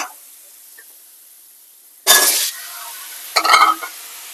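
Taro pieces dropped into hot spiced oil with chili and coriander powder, giving a sudden loud sizzling burst after quiet, then a second shorter sizzle with light clinks of stirring in the pan.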